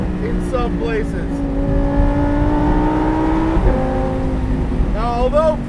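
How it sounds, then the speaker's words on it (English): A Lamborghini Performante Spyder engine revs hard and climbs in pitch, dips briefly, then pulls up again, loud and close with a steady mechanical drone. Faint voices may sit underneath. "This engine revs so much that you can downshift from 5 grand in some places"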